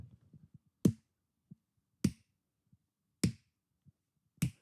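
Four slow, evenly spaced single claps, sharp and close, about a second apart in a quiet room, with faint softer taps between them.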